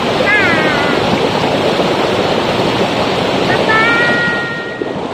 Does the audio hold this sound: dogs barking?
no